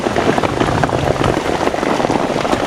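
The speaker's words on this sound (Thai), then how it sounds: "ฝนตกทุกคน" Heavy rain pours steadily and loudly in a mountain forest, a dense, unbroken hiss of drops drumming on surfaces close by, with no voices or other sounds.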